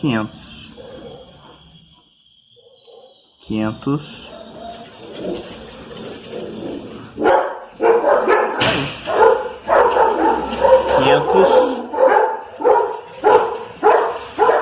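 Several dogs bark repeatedly and excitedly, close by, in a rapid, overlapping rhythm after a brief quieter stretch with a voice.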